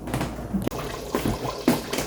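Water is poured from a glass into a cooking pot of Filipino beef afritada, a splashing, gurgling pour with a few sharper splashes and no speech over it.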